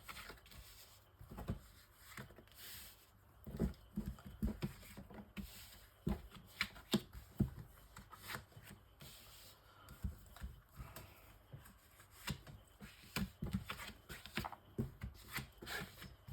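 Tarot cards shuffled and laid out for a nine-card spread: soft, close riffling and sliding card sounds with light taps and rubs, continuing quietly and irregularly throughout without talk.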